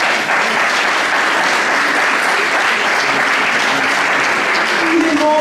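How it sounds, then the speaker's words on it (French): Loud, sustained applause from an audience at a Miss France pageant welcome event, a thick continuous wash of clapping with a few voices faintly audible within it. "Je voulais qu'on applaudisse"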